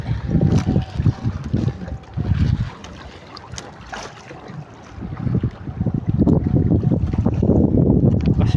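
A strong southwest monsoon wind from Typhoon Inday buffets the microphone in loud, gusty bursts near the shore, easing briefly in the middle before rising again into sustained rushing.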